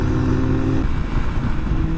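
A car engine rumbles loudly nearby as a vehicle goes by, its low drone shifting pitch partway through.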